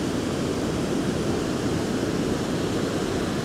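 Water rushes down an icy waterfall in a steady, dense roar close by, unbroken throughout with no voices.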